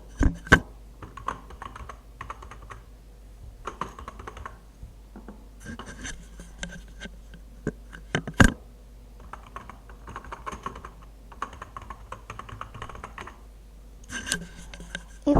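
Someone types a website header on a computer keyboard: close, clattering bursts of key clicks come in short runs with brief gaps and an occasional sharper strike.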